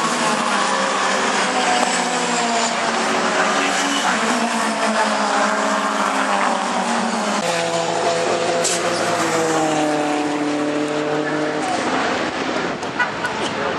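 Racing trucks at Brands Hatch, their engines roaring loudly and continuously with rising and falling pitch as they battle side by side, a commentator talking over the noise.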